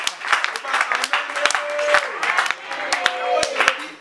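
Church congregation applauding in praise, rhythmic hand clapping with sharp claps in a steady beat, mixed with voices singing and calling out over the top.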